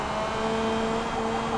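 An IndyCar engine in Forza Motorsport holds a steady low-rev drone in third gear, a continuous close hum that stays at an even pitch throughout.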